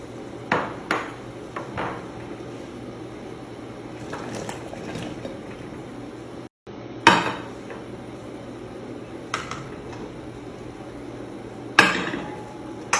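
Vegetables seasoned with salt, black pepper powder, cumin and a cinnamon stick are stirred in a cooking pot. A spoon knocks the pot in a few sharp metallic clanks over a low, steady background hum.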